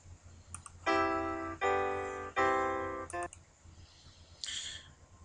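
Three sustained chords from a figured bass harmony exercise ring out in turn, each a rich, steady block of tones lasting under a second, clear and close with short gaps between, followed by a brief faint tail.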